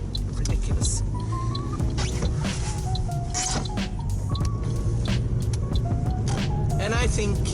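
Car interior on the road on the way to a pharmacy, with a steady rumble of engine and road noise running throughout, while a person talks over it.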